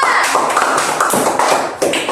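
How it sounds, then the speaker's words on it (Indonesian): A classroom group applauds during a micro-teaching practice lesson, producing a dense, steady patter of many hands clapping at once that carries on for about two seconds. "Tepuk tangan untuk kelompok 2."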